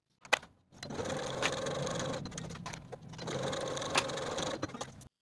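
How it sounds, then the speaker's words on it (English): Domestic sewing machine stitching the side seams of a pair of pants, two steady whirring runs of about two seconds each with a brief pause between and a few clicks at the start, close and moderately loud. "Sew your side seams with a 5/8 inch seam allowance and press your seams open."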